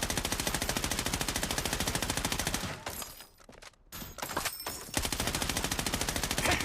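Sustained automatic gunfire in the Blood Strike shooter game on its new Payday map, rapid rhythmic bursts that drop out briefly in the middle before resuming at full intensity.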